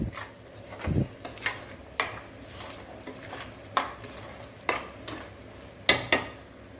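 A thick mint, coriander and curry leaf thokku is stirred in oil with salt, a utensil scraping and knocking against the pan in irregular strokes over a soft background sizzle, with no talking.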